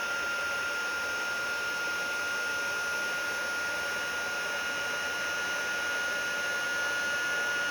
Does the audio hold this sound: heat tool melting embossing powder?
yes